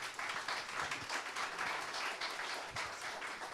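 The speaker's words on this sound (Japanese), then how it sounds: "それではお二人にもう一度大きな拍手をお願いいたします。" Dense audience applause fills a live Japanese stage event that mixes traditional performing arts with techno, a steady wash of many hands clapping at even loudness throughout without pause.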